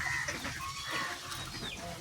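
Excited clucking and squawking from fighting chickens, with sharp high calls and scuffling bursts, close by and busy throughout.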